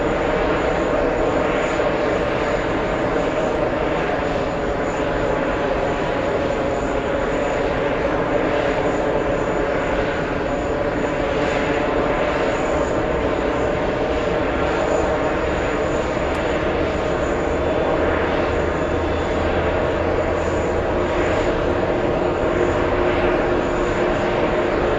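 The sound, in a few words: JetBlue Airbus A321 XLR jet aircraft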